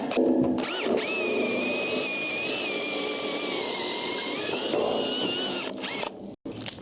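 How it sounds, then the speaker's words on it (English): Cordless impact wrench undoing a bolt on a wooden beam during timber house construction, a steady whining motor run of about five seconds, fairly close and loud, then cutting off. "I've got the impact wrench out"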